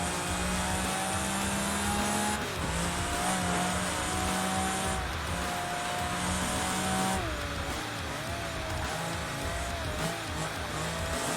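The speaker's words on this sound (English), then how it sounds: "The car sounds amazing though." Race car engine in the Project Gotham Racing 3 video game, a loud sustained roar with rising and falling pitch through gear shifts, plus some tire squeal.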